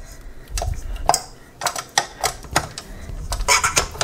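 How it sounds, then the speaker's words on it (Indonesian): Cold, still-firm butter beaten with a wire whisk attachment for a classic lapis legit cake, making close, uneven clacking and rattling bursts against the bowl, with no talking. "Nah ini butternya dikocok ya."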